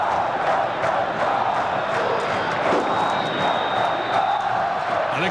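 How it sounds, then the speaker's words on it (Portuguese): Vasco da Gama supporters fill São Januário stadium with a steady roar of singing and cheering during the 2011 Copa do Brasil final against Coritiba, a dense, continuous crowd wash with no single voice standing out. "Canta, canta alto, canta bonito a torcida do Vasco"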